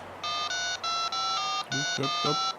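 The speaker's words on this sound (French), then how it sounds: "Voilà. Ça sonne." A telephone ringtone plays repeated electronic tone bursts in a steady pattern, loud and close, with a short break between each burst, as someone calls a magician's phone.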